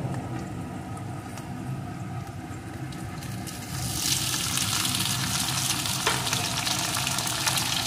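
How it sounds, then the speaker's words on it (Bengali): Potatoes and fried okra sizzle in a pan, a steady broadband frying crackle that grows louder and brighter about halfway through, with no talking. "এখন আলুটাকেও সুন্দর করে ভেজে নেব। আলুটা এখানে সুন্দর করে ভেজে নিয়েছি। এখন এর ভিতরে ভাজা ভেন্ডিগুলোকে দিয়ে দেব।"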